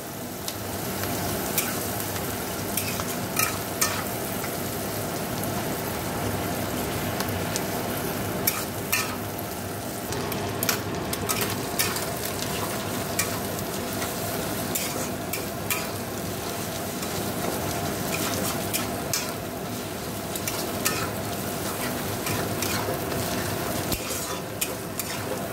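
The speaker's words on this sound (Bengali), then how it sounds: "পেঁয়াজটা লাল লাল করে ভেজে নেব" Onions fry in oil and butter in a wok, a steady close sizzle lasting the whole stretch, punctuated by frequent clicks and scrapes from a ladle stirring against the metal.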